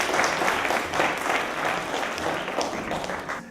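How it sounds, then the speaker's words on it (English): An audience cheers and applauds after a countdown, a dense, steady wash of clapping and voices filling the room without pause, loud and close throughout. "I think we should give ourselves a huge cheer."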